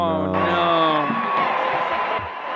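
A crowd cheers and whoops in a played clip, with loud sustained voices that shift in pitch and then fade slightly toward the end.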